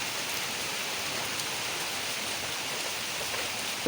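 Steady rain pours during a storm with wind, a dense even hiss of falling water that fills the whole stretch without pause, and no voices.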